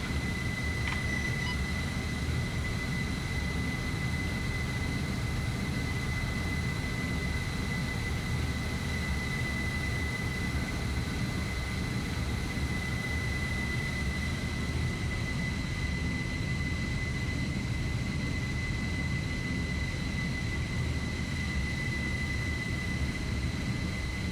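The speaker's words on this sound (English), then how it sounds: "Agnes, you're cleared for takeoff, over." Aircraft taking off in the video game Arma 3, heard as a steady, even engine roar and broadband rush that holds unchanged throughout, with a thin high whine on top and no talking.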